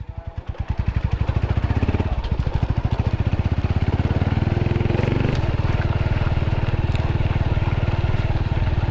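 A motorcycle rides steadily along a rural route past fields, its engine thrumming loud and near with a rapid regular pulse that picks up after a second and holds steady throughout.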